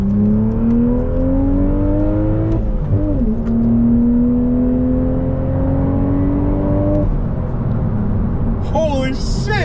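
A manual Toyota A90 Supra accelerates hard, its engine note climbing steadily in pitch, briefly dropping at a gear change, then rising again before easing off, loud and close inside the cabin.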